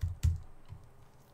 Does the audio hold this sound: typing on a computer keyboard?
yes